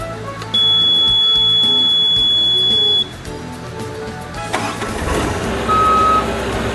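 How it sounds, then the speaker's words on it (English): A mini hydraulic excavator starts up. A loud steady warning tone comes first, then the diesel engine cranks and catches into a rough, close running rumble with a brief second tone. "You're now ready to start the excavator"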